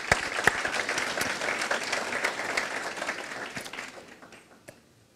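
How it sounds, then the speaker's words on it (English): A crowd applauding steadily at a South Asian heart disease outreach evening, dense clapping at full strength for several seconds before tapering off near the end. "Should we stand up and give her a round of applause?"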